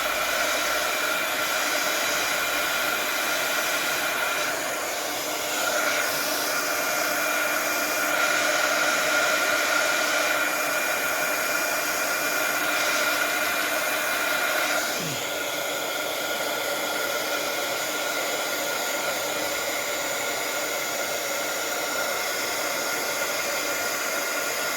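A hair dryer blows a steady, loud whoosh to dry freshly applied gesso paint, running continuously at close range with slight shifts in tone as it moves, with no talk.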